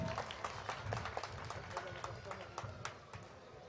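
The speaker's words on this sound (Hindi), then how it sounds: "जोरदार तालियों से एक बार फिर स्वागत।" Applause from a crowd welcoming a party official at a Bharatiya Janata Party office-bearer announcement ceremony, steady dense clapping at a distance, fairly faint, with a voice speaking over it.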